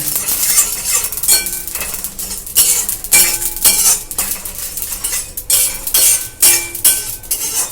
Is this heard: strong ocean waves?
no